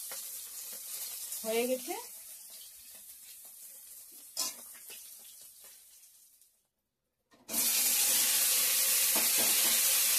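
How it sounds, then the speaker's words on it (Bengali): Rohu fish pieces frying in hot oil in a home kitchen, a steady broadband sizzle with a few utensil clinks, a brief pause of near silence, then a louder, denser sizzle resuming; a voice speaks briefly. "তো মাছগুলো এখন ভেজে নিচ্ছি।"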